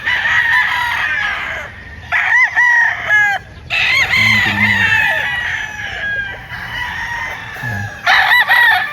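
A rooster crows loudly and close by in several repeated bursts, with clucking between them, while people speak briefly.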